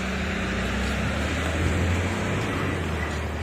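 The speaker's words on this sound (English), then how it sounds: "Big truck. Probably diesel." A big diesel truck rumbles past on a historic main street in Batesville, Arkansas, a steady loud low drone with broadband road roar, water running off nearby and wind noise.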